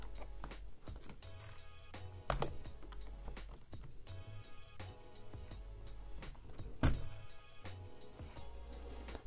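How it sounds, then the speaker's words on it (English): Close, quiet scraping and ticking of a flathead screwdriver prying a taped-down speaker out of a MacBook Pro, with irregular small clicks and two sharper snaps. "You'll have to pry it off the speaker because it has double-sided tape. That's why I'm gonna use flathead screwdriver."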